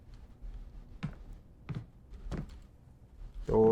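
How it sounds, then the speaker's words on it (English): A locked door in a horror video game is tried several times, giving dull thunks and rattles spaced about a second apart, ending in a louder, sustained clunk. "Door is locked, requires a key."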